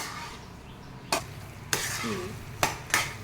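Carrot halwa is stirred in a pan, with four sharp spoon scrapes and clinks against the metal over a soft, low sizzle.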